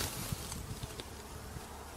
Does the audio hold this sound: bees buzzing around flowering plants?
yes